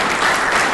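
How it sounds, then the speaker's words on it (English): Audience applause fills a dinner hall, a dense, steady wash of many hands clapping together, loud and continuous throughout with no break. "So can we have a round of applause for Medard?"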